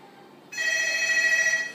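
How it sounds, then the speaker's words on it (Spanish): A telephone rings near and clear, one electronic trill bursting in after a quiet moment and holding steadily before cutting off. "Uy, el teléfono."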